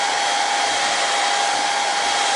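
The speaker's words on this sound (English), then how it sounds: "To do that, I'm going to use a hairdryer." A hair dryer runs steadily at close range to dry contact cement on a foam puppet head, a constant loud whirring blow with a sustained motor tone and no talk.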